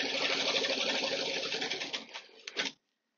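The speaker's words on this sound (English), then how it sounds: "I'm at 75 for the speed, 12 stitches per inch. I'm going to stitch along." A sewing machine stitching a quilt at speed 75 with 12 stitches per inch, giving a fast, steady mechanical whir that slows into a few last stitches and stops abruptly, close up with no talk.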